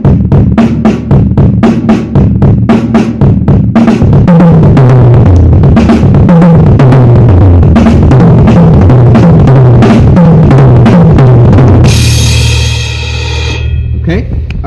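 Drum kit plays a steady groove with repeated cymbal strikes and tom and kick hits in a driving rhythm, loud and close, ending on a crash that rings out.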